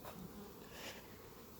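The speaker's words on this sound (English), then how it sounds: "these right here are brand new colonies, and they have a large number of bees" Honey bees buzz around newly established beehive colonies holding a large number of bees, a steady close swarm drone that fills the whole short moment without any talking.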